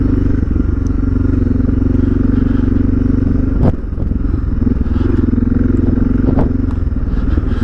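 A Suzuki DR650 motorcycle fitted with an FMF exhaust cruises along in second gear at about 30 mph, its steady, loud engine drone running close and continuous throughout, with a brief dip in the sound partway through.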